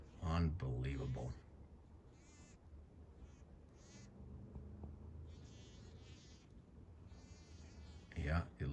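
A bee trapped in a spider web buzzes faintly and steadily, with the drone rising and falling over several seconds; voices speak briefly at the start and end.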